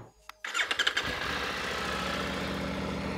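A Triumph Tiger 900 motorcycle engine starts with a few sharp revs, then settles into a steady running drone with a high whistling tone over a low rumble, close by and without talk.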